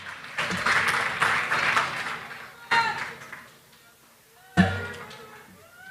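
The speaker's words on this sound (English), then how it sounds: "Let's give these students another round of applause." An audience at a high school senior awards night applauds for students, a short burst of clapping and cheers at the start, then quieter stretches broken by a brief later flurry of noise and voices.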